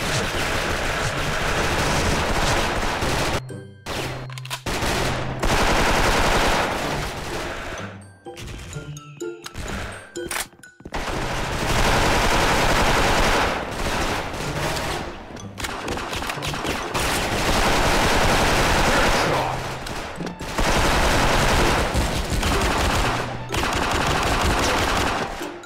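DREAD M4A1 rifle in Special Force, long loud bursts of automatic gunfire repeating over the stretch, broken by brief quiet gaps and a few metallic clinks.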